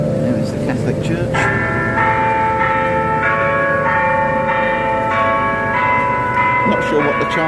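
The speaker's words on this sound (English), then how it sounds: "Not sure what the chiming's about." Bells at a Catholic church chime in a run of clear, ringing strikes over steady street and traffic noise, fairly loud and continuous throughout.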